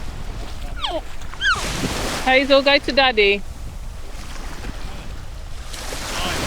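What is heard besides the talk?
sea waves at Jack Sprat beach, Treasure Beach, Jamaica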